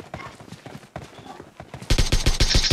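Video game gunfire in a rapid burst of close, loud shots near the end, after quieter clattering sounds, with players' voices talking during the match.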